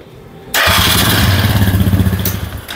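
A motorcycle, an AKT NKD 125 or Italika, fires up after a brief crank and settles into a loud, steady, close-up idle with a throbbing pulse.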